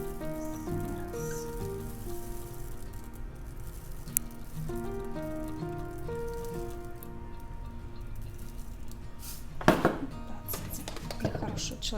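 Clear keratin pellets being poured and stirred in a container, producing soft scattered patter and light clicking taps, with a brief sharper rattle near the end and a faint voice in the background.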